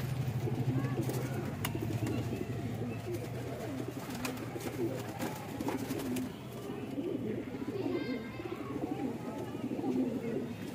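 Magpie and other pigeons for sale coo in low, rolling murmurs, several birds together, with voices talking in the background throughout.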